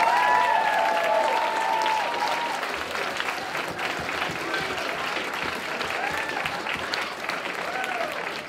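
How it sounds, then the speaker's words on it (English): Applause from an art competition audience, honoring the artists after a three-hour painting contest; steady dense clapping across the room with crowd murmur and some voices mixed in, fading slightly after the opening seconds. "So let's have a round of applause for all of our artists"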